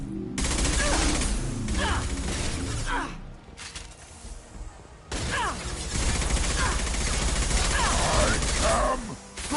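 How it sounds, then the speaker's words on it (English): Mass Effect 2 combat: rapid bursts of gunfire crackle loudly in dense volleys, break off briefly into a quieter lull, then resume with heavy shots and impacts. "Firing a high-impact shot!"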